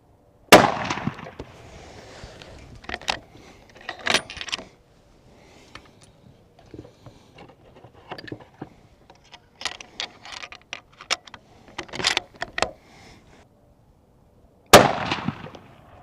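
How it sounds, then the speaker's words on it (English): Winchester Model 70 rifle chambered in 6.8 Western fired at a 100-yard target: two sharp, loud close gunshots about fourteen seconds apart, with quieter clicks and handling noises of the action between them. "we'll shoot 2 more at this same diamond just to see if we're getting a tight group there"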